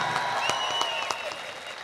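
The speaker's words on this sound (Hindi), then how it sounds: "एक बार जोरदार तालियों से।" Applause from the audience at an Urdu poetry mushaira, a short burst of scattered claps that is fairly faint and fades within a couple of seconds.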